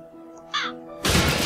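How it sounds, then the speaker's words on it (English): A raven in the video game Dark Tales gives a single hoarse caw over a steady low game-music hum, followed by a sudden loud burst of noise. "And there's a bird! It's a raven!"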